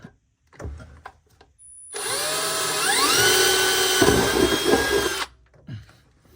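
A power drill whines loudly for about three seconds, its pitch rising as it spins up, with faint knocks before and after.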